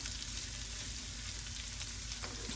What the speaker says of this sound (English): make sure you get that nice and blended in together so that the onions start to fry as well